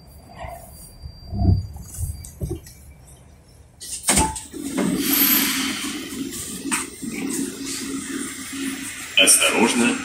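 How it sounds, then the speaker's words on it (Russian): Moscow metro train sliding doors closing at a station, a thud and rumble of door movement followed by the steady hum of the carriage, with a voice announcement over it. "Осторожно, двери закрываются."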